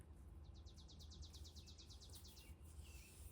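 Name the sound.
birds singing outside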